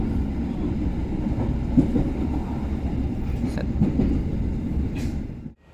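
Economy-class Pasundan train running after departing Caruban station, a steady low rumble of wheels and carriage noise heard from inside, with faint rattles, before cutting off abruptly.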